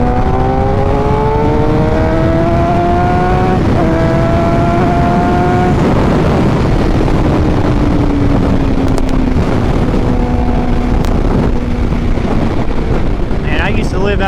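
A 2024 Suzuki GSX-R750 sport bike runs up through the gears, engine pitch rising and dropping with each shift under heavy wind buffeting, as a rider talks over it throughout.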